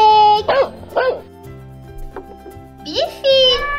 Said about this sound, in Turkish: Köpek.